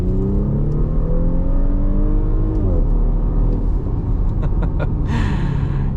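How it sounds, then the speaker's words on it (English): A 2024 Audi SQ5 with a turbocharged engine and 8-speed automatic accelerates from about 25 mph, a loud steady engine drone rising in pitch, dipping briefly at a gearshift and climbing again, with a few faint clicks near the end. "you get a nice boost of power as soon as that 8-speed automatic shifts into the right gear. That turbo spools up quick"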